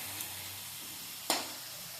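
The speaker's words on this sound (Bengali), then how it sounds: "ভালো করে কষিয়ে নিচ্ছি।" Spices for a salted bhola fish curry sauté in a pan with a quiet, steady sizzle and one sharp clink of a utensil partway through. No one speaks.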